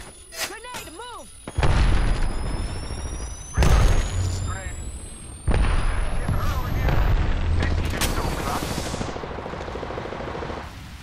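In Apex Legends gameplay, several heavy booming blasts hit one after another, each followed by a rumbling tail, along with whistling sweeps and scattered gunfire. Players talk over the action.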